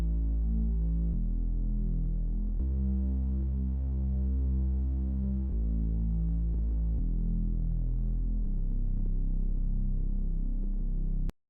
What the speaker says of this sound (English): This is just one of my custom made Reese basses.